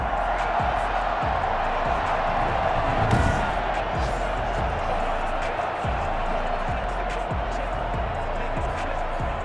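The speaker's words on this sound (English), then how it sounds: "How about some applause for the defense there?" Stadium crowd in the Madden NFL 21 game applauds the defense, a steady wash of cheering and clapping with thumping beats underneath, continuous and fairly loud throughout.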